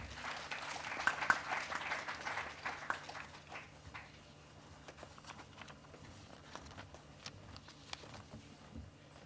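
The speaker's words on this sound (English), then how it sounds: "A round of applause for Mr. Sudhir Sitapati" Audience applause in a conference hall at an investors meet, a scattered round of clapping that swells early and then thins out to a few fading claps, heard from a distance with quiet room tone.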